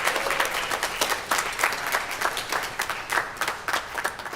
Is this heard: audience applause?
yes